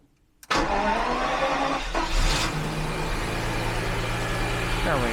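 A V12 Jaguar XJS cranks briefly after near silence, fires up with a sharp catch and settles into a steady, slightly uneven idle, close by, with a voice faintly under it.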